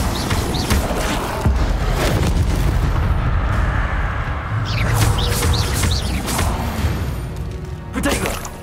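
Combat spells in the Hogwarts Legacy video game, including the Incendio fire spell, burst out in a dense stream of booming blasts and crackling whooshes, loud and continuous with sharp hits scattered throughout.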